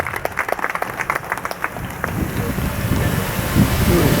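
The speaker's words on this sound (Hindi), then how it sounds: "विक्रम भाई प्लीज एक बार जोरदार तालियों के साथ विक्रम भाई के लिए।" A crowd of supporters claps at an outdoor political election gathering at a candidate's residence, a dense rolling patter that starts uneven and swells into steady, loud, continuous applause with wind-like noise throughout.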